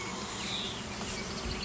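Honey bees swarm and buzz at an open hive during an inspection, a steady, dense hum filling the air without a break.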